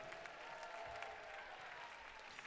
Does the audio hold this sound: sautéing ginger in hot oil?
no